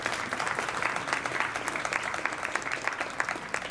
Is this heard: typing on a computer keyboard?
no